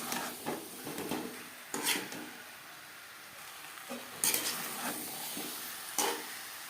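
Peas and potatoes cook over a medium flame, giving a soft, low sizzle with several sharp scraping strokes of a spatula against the pan at irregular intervals.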